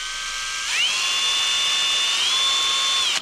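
A power drill spins an engine valve at full speed during a VW air-cooled Type 4 cylinder head rebuild, giving a high whine that ramps up sharply and then holds steady, with a brief dip near the end.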